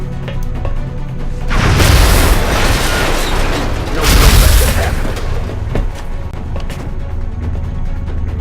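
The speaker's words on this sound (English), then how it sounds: "So let's go ahead and rapid fire to kill this thing." Rapid-fire weapon shots in XCOM: Enemy Unknown ring out as two heavy, booming bursts, each lasting about a second, over a steady bed of game background noise.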